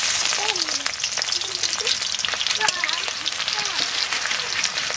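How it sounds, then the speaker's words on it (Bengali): Onions frying in oil in a home kitchen pan, a steady close crackling sizzle throughout with occasional stirring clinks, while voices talk faintly over it. "এই যে এখন তেল দিচ্ছি পেঁয়াজ দিচ্ছি"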